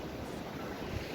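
Steady surf washing on Seeb beach in Oman, a constant broadband roar with wind buffeting the microphone and no distinct breaks, heard alone without talk.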